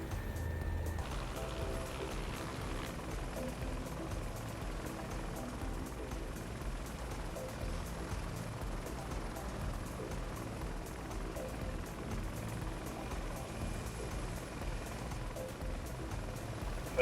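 A helicopter on a chopper tour over the East Coast of Spain in a flight simulator game drones steadily with a low rotor rumble and engine hum, moderately quiet and unchanging throughout.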